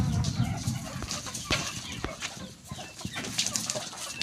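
Chickens cluck among a pen of mixed fowl, both roosters and hens, kept under a roofed coop; dense, overlapping bird calls carry through with scattered sharp clucks and a faint voice in the background.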